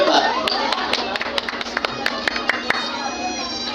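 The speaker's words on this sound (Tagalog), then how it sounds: "Uy, palakpak naman kayo." Guests at a family golden birthday celebration clap together, a brisk run of sharp hand claps over a steady background tone, thinning out toward the end.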